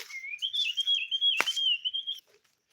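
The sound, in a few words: birds singing in a village forest in the evening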